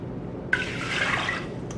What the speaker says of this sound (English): And to this, we will add 2 cups of water.